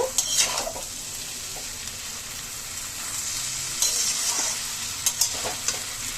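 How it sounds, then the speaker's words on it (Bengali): Chowmein noodles with fried potato are gently stir-fried in a pan, giving a continuous soft sizzle punctuated by a few light scrapes and taps of the spatula against the metal. "নুডলসটা দিয়ে একটু হালকা হাতে নেড়ে চেড়ে"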